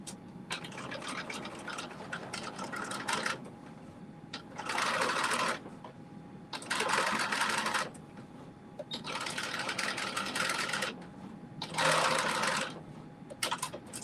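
A sewing machine stitching fabric for a Simplicity 8424 garment, running in several steady bursts of a few seconds each with short pauses between, close and continuous whirring with a quieter room hum in the gaps.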